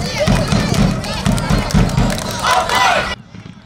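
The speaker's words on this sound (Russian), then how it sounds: "Полные трибуны, болельщики с барабанами, как будто матч профессионалов" Packed stands of supporters cheer at a youth league football match, with drums pounding a steady beat under loud crowd chanting before the noise cuts off abruptly near the end.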